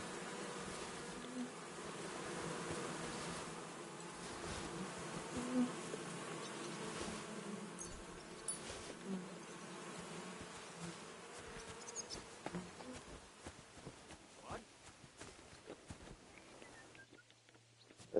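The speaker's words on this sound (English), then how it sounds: "We got bees here." Bees buzzing steadily in the medieval countryside of Kingdom Come: Deliverance 2, a continuous insect drone with a few faint footsteps and rustles before it thins out near the end.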